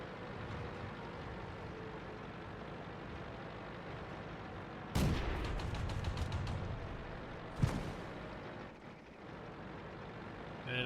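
World of Tanks tank main gun firing at a wounded Panzer 1C: one sharp, loud cannon blast with a rumbling tail, then a second shorter crack a few seconds later, set against low engine drone and battle ambience.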